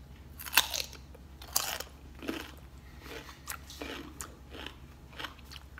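Crisp bites and crunchy chewing on a large, young homegrown organic cucumber eaten with its skin on, a few sharp crunches followed by steady close-up chewing, with no talking.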